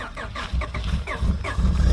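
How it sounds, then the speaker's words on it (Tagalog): A car engine in extreme winter cold in Edmonton, Alberta cranking and struggling to start, with a rapid, uneven chugging rhythm that grows louder toward the end, heard close with no talk. "Hirap umandar yung sasakyan ni Mahal Reyna gawa nga ng sobrang lamig"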